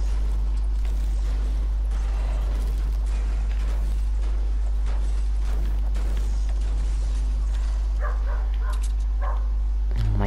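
A dog barking and whimpering inside the Fortnite video game, with repeated short barks at moderate distance over a constant low game rumble and background noise.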